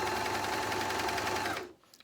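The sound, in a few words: JUKI MCS-1500N coverstitch machine hemming fabric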